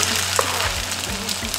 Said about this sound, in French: j'ai mis juste un petit peu d'huile dans la poêle. Et puis je dépose les falafels